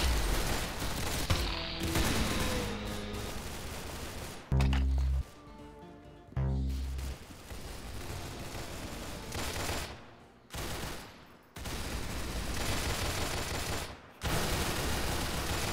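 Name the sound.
gunfire in a shooter video game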